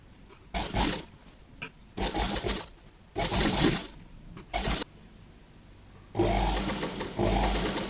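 A sewing machine stitches a band collar on a designer kurti in several loud, quick bursts separated by short quiet pauses.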